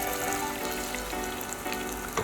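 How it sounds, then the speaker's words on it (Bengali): Egg frying in oil while being stirred for a Bengali egg and dal dish, a dense, close, continuous sizzle with no pauses. "গোল্ডেন কালার আসা অবধি একটু হালকা নেড়ে চেড়ে ফ্রাই করে নেব"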